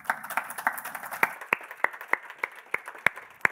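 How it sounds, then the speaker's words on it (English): An audience applauds for four panellists at an Auckland Conversations evening event, a thinning round of claps that slows into a few scattered, distinct hand claps at close range, with no voices over it. "another massive round of applause for our four panellists this evening"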